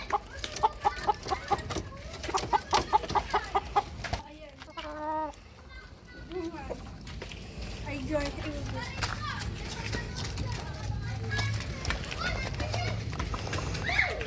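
Six-month-old Alimbuyugin gamecock in a Philippine-style fowl yard, clucking and calling with bursty, rhythmic poultry vocalizations near the start, then a steadier mix of birds and children's voices in the background.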